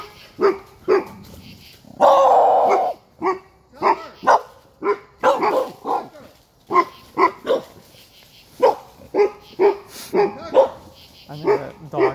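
A group of dogs barking aggressively in repeated sharp bursts, loud and close, with a brief whimper among the barks, heard alone without talk.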